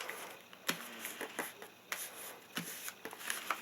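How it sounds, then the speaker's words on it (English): Origami paper being folded and creased by hand in short crisp rustling bursts, close and quiet, with several separate crackles and swishes spread across a few seconds. "Give that a good crease. Do the same to the other side."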